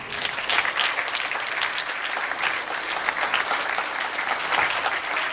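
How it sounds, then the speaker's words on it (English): Warm applause from an audience at a gathering, a steady wash of many hands clapping that holds at an even level throughout, with no speech over it. "So I would request you to give a warm round of applause for Mr. Aloysius."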